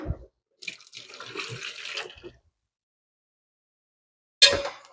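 Liquid poured from a cooking pan straight down a kitchen sink drain, a steady splashing gush lasting under two seconds, followed by a short sharp clatter near the end.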